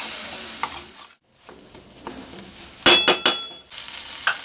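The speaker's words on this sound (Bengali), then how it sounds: "ভালো করে ভাজা হয়ে গেলে ওই টমেটো যেটা পেস্ট করে রেখেছিলাম সেটা এবার দিয়ে দিলাম।" Tomato paste added to ginger frying in a pan for a Bengali cabbage dish, with a steady sizzle broken by a brief quiet gap, then several sharp stirring clinks and scrapes close by, no talk.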